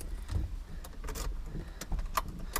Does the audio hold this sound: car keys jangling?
yes